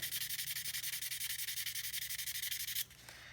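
Rapid, steady back-and-forth rubbing on a rusty spot of a Spyderco Cat pocketknife blade, close and loud, about a dozen quick strokes per second that stop abruptly near the end.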